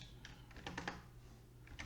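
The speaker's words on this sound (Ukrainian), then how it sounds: "Або можемо, звичайно, вручну прописати за допомогою клавіатури" Brief clicks on a computer keyboard during manual text entry in a Google Docs document, a handful of quick key presses, faint and close over low background hum.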